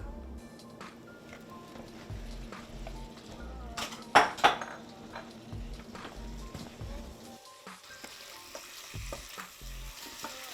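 Shrimp and onions sauté in a pan with a steady, moderate sizzle, cut by a couple of sharp metallic clanks of a utensil against the pan, with no talking.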